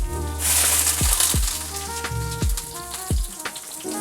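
Hot oil crackles and sizzles steadily after water hits it, with a busy backdrop of low tones and thumps.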